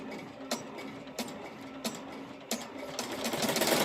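A Melco EMT16X commercial embroidery machine stitches with Hobby Lobby thread at 900 stitches a minute: a steady close mechanical whir punctuated by regular sharp clacks, growing busier toward the end, with no voices.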